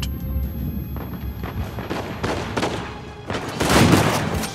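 Blind-fire gunshots from the Uncharted 4 video game crack out in scattered bursts over a low combat rumble, with a heavier volley near the end, moderately loud and without talk.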